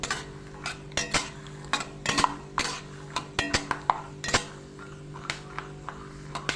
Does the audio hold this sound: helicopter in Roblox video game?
no